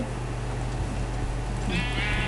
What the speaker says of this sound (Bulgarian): Аз тук убивам овце.